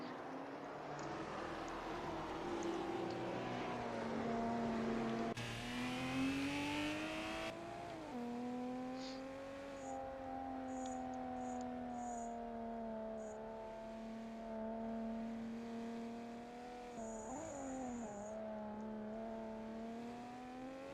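Race cars in an ATCC touring car video game race at the Adelaide street circuit, steady engine drone with shifting pitch and gear changes, tyre noise, continuous and fairly loud throughout with no talk.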